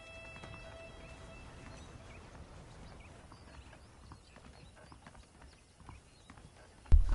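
Saddled horses in the Western video game Red Dead Redemption clop along in soft, uneven hoofbeats over quiet ambience, ending in a sudden louder thump.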